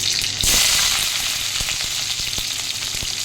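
Garlic, chilli and onion fry in hot oil in a pan, a loud close sizzle that flares up as the onion lands, then settles into a steady hiss with small pops and spatula taps.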